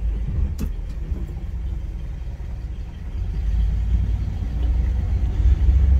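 A 1978 Dodge Ramcharger rumbles along on a drive, its low engine drone steady and close inside the cab, swelling louder toward the end with a brief clunk near the start.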